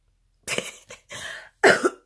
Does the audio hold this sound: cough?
yes